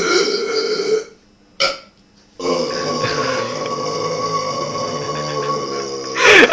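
Loud, close burps from young contestants in a burping contest: one long croaking belch, a short gap and brief sound, then another extended rumbling burp with a rising final burst.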